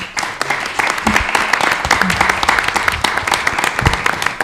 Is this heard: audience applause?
yes